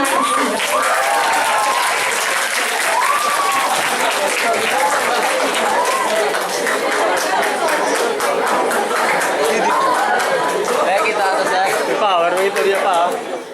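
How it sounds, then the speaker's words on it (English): A school audience applauds a Grade 9 playwriting contestant, loud dense clapping mixed with crowd chatter and a few chuckles, sustained throughout before fading at the end. "let's give a round of applause to Janelle Narciso of 9C."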